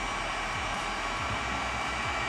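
A heat gun blows steadily while warming carbon-pattern hydrocovering film on exhaust tips, giving a constant, close airy whoosh with a low motor hum and no talking.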